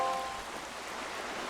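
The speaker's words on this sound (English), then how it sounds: "this place suffers under dark clouds and rain" Steady rain hisses down on a cursed island in Wind Waker HD, a dense, even wash of falling drops with a brief high tone fading at the start.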